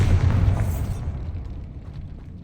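Bombarda blasting spell detonating in the video game Hogwarts Legacy, a heavy booming explosion at the start that rumbles and fades out over a couple of seconds.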